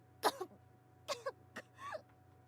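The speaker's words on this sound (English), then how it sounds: "Rin coughed like she just choked on a drink." A character in a horror visual novel video game coughs in short separate bursts, a few sharp throaty hacks close up, alone over a faint steady hum.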